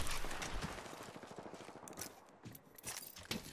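Rapid gunfire in a sci-fi video game shootout, with shots crackling in dense, uneven bursts that flare and ease throughout, fairly close and continuous.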